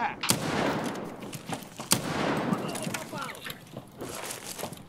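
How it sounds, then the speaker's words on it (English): Gunfire in the video game Escape from Tarkov, sharp shots at irregular intervals, some loud and close and others farther off. A voice talks over the exchange. "What are they shooting at?"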